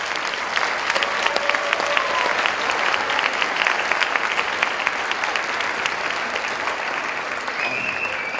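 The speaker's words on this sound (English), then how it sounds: "So please applaud for your kids, because they're great." Enthusiastic audience applause at a high school band winter concert, steady dense clapping filling the hall with a few cheers and whistles mixed in.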